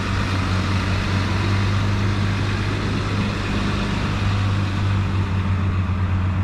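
The 6.7-litre Cummins HO turbo diesel in a 2026 Ram 3500 Tradesman pickup runs at a steady idle, a loud, constant low rumble with a droning hum and no voices.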